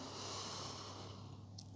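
A single slow yoga inhale during a vinyasa routine, a soft, steady airy breath held close and quiet for nearly two seconds, with no talking over it.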